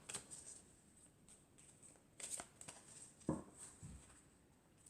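Tarot cards are drawn and handled close by, with a few soft, brief shuffles and slides against quiet room tone and no talking.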